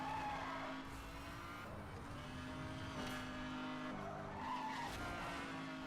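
Race car tires skid and squeal through a drift in the Need for Speed Hot Pursuit Remastered video game, a loud continuous screech over engine roar, swelling and easing across the run.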